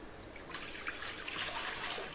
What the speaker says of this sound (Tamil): இப்போ அப்ளை பண்ணி முடிச்சதும் நம்ம தண்ணியை ஊற்றிக்கலாங்க